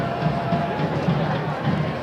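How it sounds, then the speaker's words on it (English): A soccer crowd at MUSC Health Stadium gives off a steady distant murmur during a USL playoff match, a low hubbub of many voices with a commentator talking over it. "Good crowd here tonight as well."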